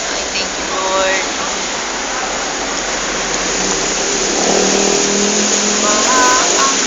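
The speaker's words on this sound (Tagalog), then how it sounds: "Grabe po ang baha." Floodwater rushes in a loud, constant roar across a flooded street in Manila, with a few faint voices and traffic sounds beneath it.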